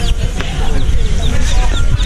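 Baby chicks in a box chirp in quick, high, overlapping peeps, close and fairly loud, with soft clucking-like notes mixed in.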